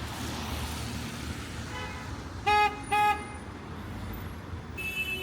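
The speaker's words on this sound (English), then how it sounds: "A lot of honking" Car horns honk in city traffic in Romania: two short, bright toots close together, then another horn near the end, all over a steady roadway rumble.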